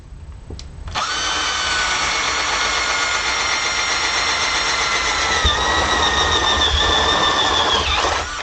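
A power drill boring a hole for a stereo jack in a guitar amp foot switch enclosure, whining loudly and steadily for about seven seconds after a brief start, pitch dipping slightly mid-cut before stopping.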